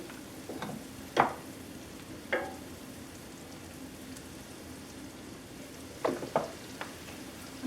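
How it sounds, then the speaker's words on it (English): Onions frying in a pan for bean and sausage soup give a faint, steady sizzle, broken by a few sharp clinks and scrapes of stirring. "I'm going to add the onions."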